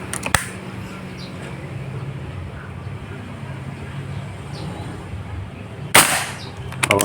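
Two sharp air rifle shots from a Yumaja Sempiternal or SW 13GR ring out outdoors, one near the start and one near the end, over a steady low ambient hum.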